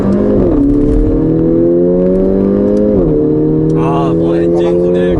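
A Mercedes-Benz GLA45 AMG crossover engine drones steadily while driving, its note rising, dipping at a shift, then climbing again, with faint chatter-like noise near the end.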